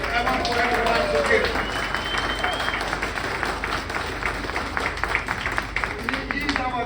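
An audience applauds at the inaugural ride of the Dorothy Day, a new Staten Island Ferry, with steady, dense clapping that holds throughout alongside crowd murmur and voices.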